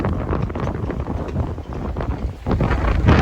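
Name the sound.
strong wind blowing into the microphone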